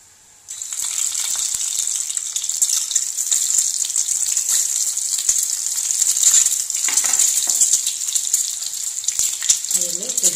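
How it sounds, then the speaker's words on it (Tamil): Cut boiled eggs frying in hot oil in a pan, a steady broadband sizzle that starts abruptly and runs without a break, with a faint low clatter near the end. "வச்சுட்டு அதில் வந்து கொஞ்சம் ஆயில் சேர்த்துட்டு நம்ம கட் பண்ணி வச்சுருக்க முட்டையை வந்து அதில் வந்து ஃப்ரை பண்ண போகிறோம்"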